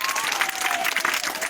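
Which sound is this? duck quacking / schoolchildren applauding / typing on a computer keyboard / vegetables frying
schoolchildren applauding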